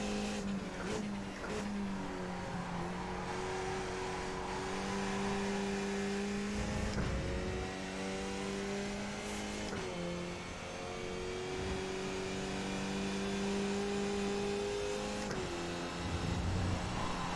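Race car engine in an iRacing sim race, a loud sustained drone rising and falling through repeated gear shifts as it accelerates out of corners, with brief tire squeal and no talk.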